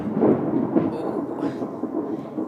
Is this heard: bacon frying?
no